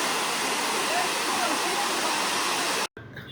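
Tada waterfall, flowing at normal level, produces a loud steady broadband rush of water that fills the scene, then cuts off abruptly near the end.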